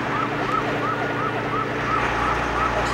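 Police car sirens wail in a repeating rising-and-falling pattern, each cycle about half a second, loud over steady traffic rumble and engine drone, with no talk.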